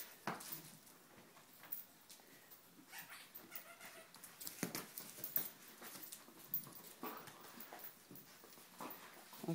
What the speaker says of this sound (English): Dogs are having a great time.